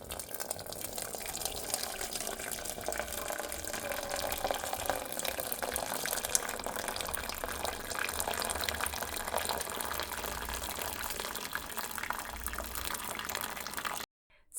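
Spiced liquid from boiled damsel fruit with cloves, ginger and water, strained out of a large pot, pours in a steady continuous splashing stream, close and fairly loud, for the full length before stopping abruptly.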